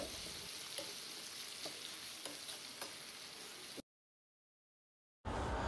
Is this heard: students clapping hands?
no